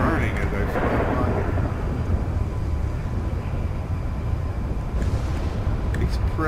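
Heavy, continuous rumbling thunder from a lightning storm in GTA5 Online, a dense low roar that fills the whole stretch with a brighter swell near the end.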